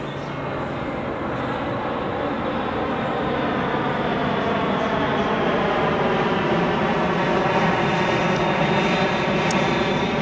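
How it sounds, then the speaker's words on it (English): A fixed-wing airplane on approach to New Orleans International Airport turns low over a house, its engine roar steady, broad and loud, swelling slightly as it passes overhead with no talk. "when the planes land, they always turn above this house"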